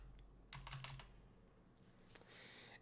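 Code being typed on a computer keyboard in quiet room, a few short bursts of soft clicking keystrokes, close and faint, with pauses between.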